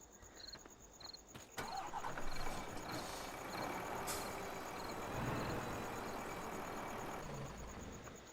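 A tractor in Farming Simulator 2015 revs up and pulls a trailer forward, its engine rising to a steady drone after an initial thump, while a regular beeping signal repeats in the background.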